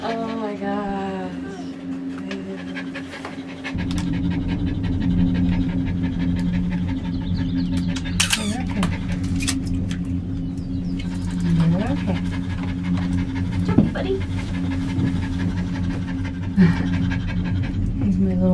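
A small dog pants rapidly and whimpers in near, continuous bursts throughout a ride on a mountain gondola in Telluride, Colorado, with people talking over it.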